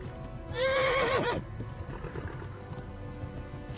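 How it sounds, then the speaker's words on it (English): A horse in Kingdom Come: Deliverance gives one loud, clear whinny near the start, followed by quieter hoof clops and ambient game sounds. "make sure that you're galloping constantly, and if your horse is slowed down"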